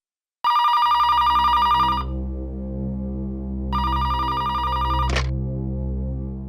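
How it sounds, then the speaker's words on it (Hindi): A telephone bell rings loudly in two bursts with a pause between, set over a steady low hum, followed by a brief sharp click as the handset is picked up. "फोन उठाना है प्लीज"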